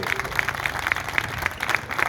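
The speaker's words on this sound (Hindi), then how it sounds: "आप सबकी जोरदार तालियों की बरसात चाहिए।" A crowd at a community statue-installation program for Dr. Babasaheb Ambedkar in Bundi claps together, with a fairly regular rhythm of claps over a noisy outdoor background.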